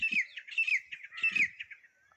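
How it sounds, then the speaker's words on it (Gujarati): A partridge calls in short repeated harsh, rasping squawks, a few bursts in quick succession, fairly close and clear against a quiet background. "આ બાજુ તેતર બી બોલે છે"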